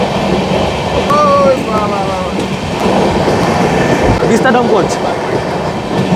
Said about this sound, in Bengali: ট্রেন কিন্তু তার নির্দিষ্ট গতি নিয়ে সামনে দিকে এগিয়ে চলেছে